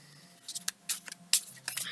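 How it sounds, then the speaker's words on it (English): Tarot cards from a Crystal Visions deck are shuffled by hand, giving a few short, crisp riffles and slaps in separate bursts, close up, with faint low room hum beneath. "So I'll give the cards a shuffle."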